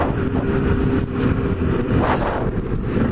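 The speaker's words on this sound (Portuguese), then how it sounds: "a Boulevard aí é uma moto forte, né? Não é uma moto quatro cilindros, mas é uma moto forte." A Suzuki Boulevard motorcycle engine rumbles close and loud for a few seconds, revving with a rough throaty pulse under some wind buffeting and no talking.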